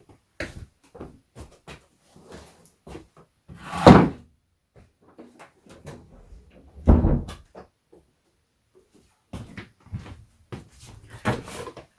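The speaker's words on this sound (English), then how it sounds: "I'm going to shut the door" A couple of solid thuds from a door closing, among scattered quieter clicks and handling noises, with no talking.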